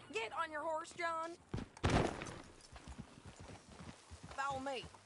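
Horse hooves clip-clop softly in Red Dead Redemption 2 as riders set off, with a sharp thud near the two-second mark, and voices talk over the beats at the start and end.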